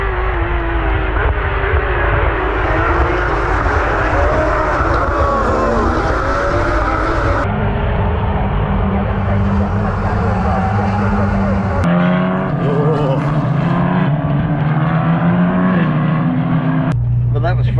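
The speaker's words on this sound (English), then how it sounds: "We got the Porsche Carrera Cup going by now" Porsche Carrera Cup race cars roar past at Thruxton circuit, a continuous loud engine drone rising and falling as cars pass in succession, with a brief quieter gap near the end.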